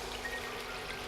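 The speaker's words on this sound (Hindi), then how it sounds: "अब इन मैंने पानी डाल डाला" Water is poured into a pan of papad curry, a brief, faint, steady liquid trickle with no talking.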